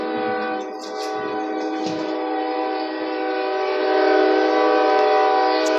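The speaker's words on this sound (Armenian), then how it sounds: "Գնացքն է ացում" A train passing nearby, its steady loud horn-like tonal drone holding throughout and swelling slightly toward the end.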